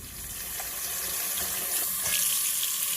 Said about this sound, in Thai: อันนี้นี่เวลาล้างถ้าอยากจะใช้น้ำยาล้างผักด้วยนะคะ